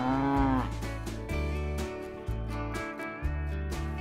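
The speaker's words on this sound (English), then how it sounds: "these are our market cattle behind us" Market beef cattle on a small farm raised for meat, lowing in a series of loud, drawn-out moos, one after another, close by and clear with no talking.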